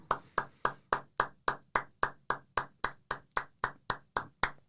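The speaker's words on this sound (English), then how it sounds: "Yes, claps all around for them." Quiet clapping for an esports team, about seventeen crisp, evenly spaced claps in a steady, unbroken rhythm, sounding like a single pair of hands.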